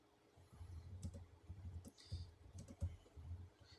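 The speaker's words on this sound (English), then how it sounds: "I'm not good at typing." Keys clatter on a computer keyboard during a Toram Online gaming session, with rapid bursts of clicky typing and brief pauses between them, close and fairly quiet, with no one talking.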